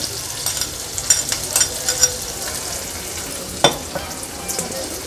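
Finely chopped large onion dropped into oil with crushed ginger and garlic, frying in a pan for a lobster curry; a steady soft sizzle with scattered crackles and one sharper pop, no talk.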